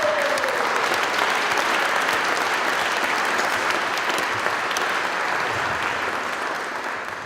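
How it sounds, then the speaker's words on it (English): Sustained audience applause fills an awards gala hall, a dense steady wash of many hands clapping at full strength for several seconds before easing slightly near the end. "So a round of applause for them too, please."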